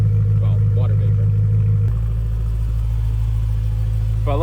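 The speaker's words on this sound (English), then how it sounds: "here's the exhaust at operating temperature" Exhaust of a 2011 BMW M3 idling at operating temperature, a steady deep low rumble that drops slightly in tone partway through, with a voice talking over it.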